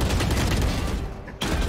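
Continuous rapid gunfire rattles through a Valorant match, loud and close, with a brief pause near the end before the shooting resumes.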